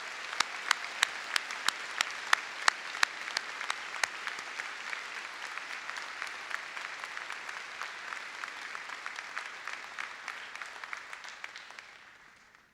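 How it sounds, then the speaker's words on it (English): A convocation audience applauds the graduating class at a university ceremony, sustained clapping with a few sharp individual claps standing out, steady for about twelve seconds before fading at the end. "please join me one more time in applauding the UPEI class of 2017"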